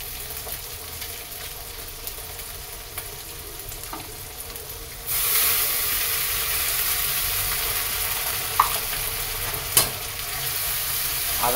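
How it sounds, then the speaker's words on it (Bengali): Ginger garlic paste fries in a pan with a continuous crackling sizzle that grows louder partway through, with a couple of sharp utensil taps near the end and no speech. "আদা রসুন ভাজতে ভাজতে ভাজা হচ্ছে"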